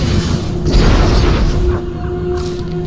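Barrage explosions in the real-time strategy game Red Alert 3 Uprising, with a loud continuous rumbling boom and deep low-end roar swelling then slowly fading, alone without voices.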